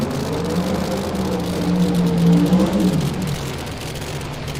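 Blown Noonan Hemi engine in a drag radial racing car at an Australian race day, a loud, steady roaring drone that swells briefly in the middle, heard alone without talk.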